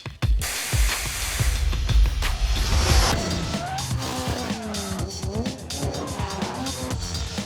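A race car spins and drifts with loud, sustained tire squeal and skidding, the engine revving and wailing in changing pitch, close and intense throughout.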